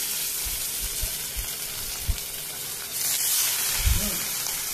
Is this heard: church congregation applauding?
no